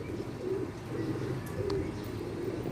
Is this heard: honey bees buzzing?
no